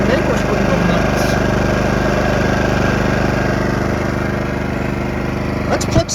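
Powersmart PS5025 2200W four-stroke OHV gas inverter generator running steadily at close range, a continuous low, even engine drone with a faint clatter near the end.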